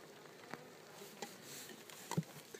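Honeybees hum faintly around the entrances of strong hives in an autumn apiary, a soft, distant, continuous buzz broken by a few brief nearer wingbeat passes.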